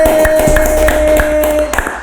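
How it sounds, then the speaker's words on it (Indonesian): Scattered clapping from a small audience at a coffee business talk, a few sharp, fairly close hand claps over a steady hum, tapering off at the end with no speech. "Tepuk tangan untuk Jema Kopi."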